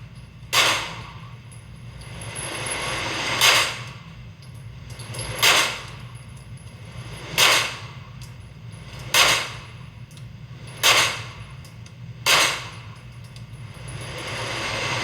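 Seven sharp Canik SFX Rival pistol shots at an outdoor range, each a loud close crack spaced one to two seconds apart over a steady low background hum, with no talking.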